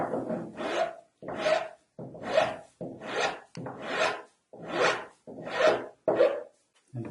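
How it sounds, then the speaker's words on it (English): Hand files rasp along a hard maple edge, cutting a lamb's tongue chamfer in steady back-and-forth strokes, about nine or ten close, dry scraping passes with brief pauses between them. "hard maple, I'm using these files"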